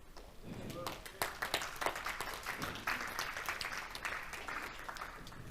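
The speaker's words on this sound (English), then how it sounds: "I hope you're clapping for God" A congregation claps during a church service, a fairly quiet stream of overlapping handclaps that swells and eases, with a voice talking over it throughout.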